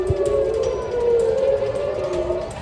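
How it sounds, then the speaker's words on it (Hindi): An air raid siren wails over Tel Aviv during a missile attack, a loud sustained tone holding steady with slight rise and fall throughout, heard alone without voices. "शहर की फिजा में गूंजता ये सायरन, खुद को बचाने के लिए दौड़ते लोग"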